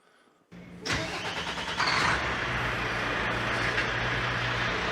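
A Mack Pioneer Class 8 truck's diesel engine cranks after a quiet moment, catches, and settles into a loud, steady idle that swells slightly before holding even, heard close with no talking.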